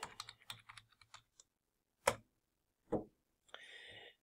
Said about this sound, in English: you'll type in your student ID number